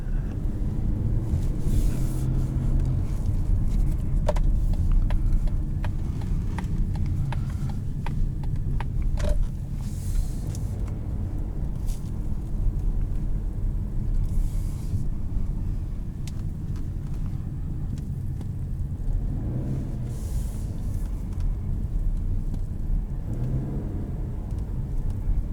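A 2021 Mazda CX-30 Turbo engine pulls under acceleration, a steady low rumble heard from inside the cabin with wind noise and a few faint clicks and thumps.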